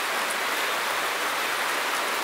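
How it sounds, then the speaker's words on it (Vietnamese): Heavy rain pours steadily at night in a rural Vietnamese setting, a dense, even hiss of drops on surfaces close by, continuous and loud throughout with no voices. "Rồi mưa to quá mấy bạn ơi, nãy giờ mưa to lắm"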